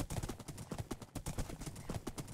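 Rhythmic horse hooves clip-clop steadily in WynnCraft, a Minecraft role-playing server, a quick repeating trot of game footstep sounds heard close and alone.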